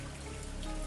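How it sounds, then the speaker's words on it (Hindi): Heavy rain pours down outside a house at night, a dense, steady wash of drops with no voices. "बाहर बहुत तेज बारिश हो रही है"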